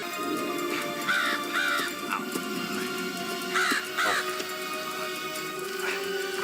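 A crow caws in a TV episode of Beyond Belief: Fact or Fiction, several harsh calls in short pairs rising over a steady background hum, with no one talking.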